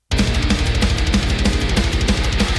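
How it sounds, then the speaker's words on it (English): An unequalised default metal kick drum fires in a fast, even double-bass stream of about a dozen punchy, boomy hits each second, loud and alone, with nothing else in the mix. "this is the sound of the default kick with no EQ"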